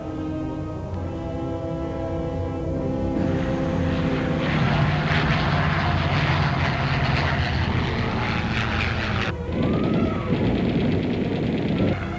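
World War II propeller planes fly low over a 1994 D-Day invasion re-enactment, their engines droning loud and close, swelling as they pass overhead and then fading, with no voices.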